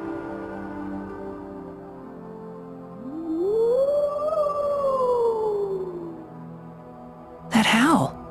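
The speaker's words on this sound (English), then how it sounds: "That howl." A long, rising-then-falling monster howl from the video game Tales of Symphonia: Dawn of the New World, distant and mournful over quiet game music, followed by a short sharp burst.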